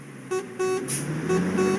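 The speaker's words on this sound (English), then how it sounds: "Somebody's beeping their horn at me." Short car horn beeps sound twice, spaced apart, over a busy parking lot near a Walmart, fairly close and moderately loud.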